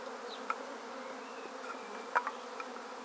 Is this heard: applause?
no